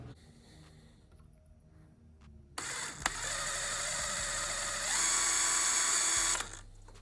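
A power drill bores a small hole in the plastic headlight housing of a 2003 Ford F150 turbo, whirring up loud and steady after a quiet start, rising in pitch midway, then stopping.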